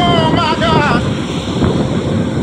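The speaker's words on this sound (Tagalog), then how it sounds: "So ayun, lakas ng alon." Strong sea waves at Infanta beach crash and rush, heavily buffeted by wind noise against the microphone, with a faint voice briefly audible near the start.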